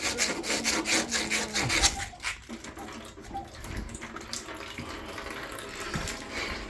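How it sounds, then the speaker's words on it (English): A reamed pipe end is sanded by hand before fitting a PEX adapter for a hose faucet, giving close rhythmic rubbing and scraping strokes that are loud at first and then quieter. "sand it down"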